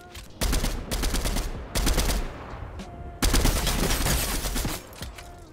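Rapid bursts of automatic gunfire in the Fortnite video game, loud and dense, in several volleys with short pauses between them, no talk over them.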